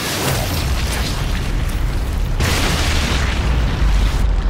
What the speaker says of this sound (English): I'm gonna throw a grenade at these guys